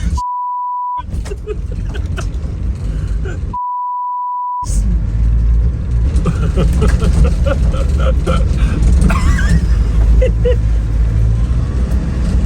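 A car fitted with new all-terrain tyres labours uphill off-road, its engine rumbling loudly and steadily. Two censor beeps interrupt the start, and people talk over the drive.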